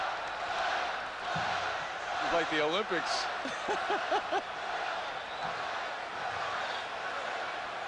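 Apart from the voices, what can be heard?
arena crowd chanting at 1986 NBA slam dunk contest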